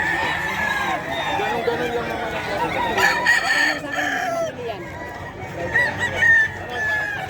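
Roosters at the Bocaue poultry and pet market crow loudly and repeatedly, several birds overlapping with clucking, amid busy market chatter and voices nearby.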